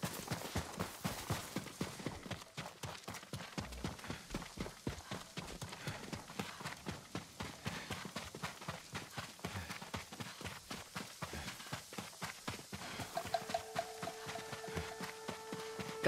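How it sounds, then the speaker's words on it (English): Horses' hooves clip-clop steadily in the Ghost of Tsushima video game, a continuous rhythmic run of close hoofbeats lasting throughout, with a sustained tonal game sound entering near the end. "Leave the horses. We'll continue on foot."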